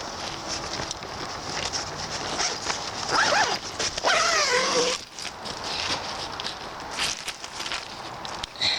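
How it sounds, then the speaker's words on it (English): A tent zipper pulled in a few quick rasping strokes, close by, over steady outdoor wind noise in La Jolla, California. "I literally am going to zip up the tent, as you can hear me do"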